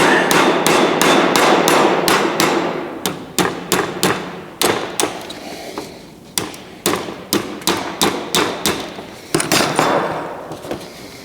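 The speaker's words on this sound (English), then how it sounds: "A couple of small taps with the hammer to get things all lined up." Rapid, forceful hammer blows on metal, close by, landing in quick bursts with short pauses between runs of strikes, tapping a custom grille into place on a 1970 El Camino.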